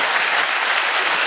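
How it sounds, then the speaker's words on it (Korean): The congregation at Yonsei Central Church, a Korean church, applauds in a dense, even burst of many hands clapping at once, loud and continuous, with no voices on top. "박수 좀 잘 쳐"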